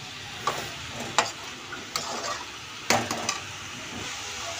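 Radish and mustard greens sabzi is stirred in a pan: a soft, low frying hiss punctuated by several sharp spoon taps and scrapes against the metal.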